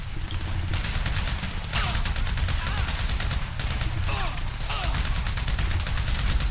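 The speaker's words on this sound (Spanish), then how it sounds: "Se escuchan ya balazos." Gunfire in the video game GTA 5 during a story-mode heist, repeated shots popping over steady game noise and rumble, with a voice talking at times.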